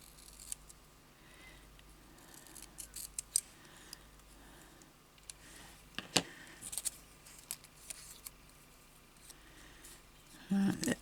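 Scissors cutting recycled paper for a junk journal, scattered close snips and crisp clicks at irregular intervals over quiet room tone, with someone talking softly at times.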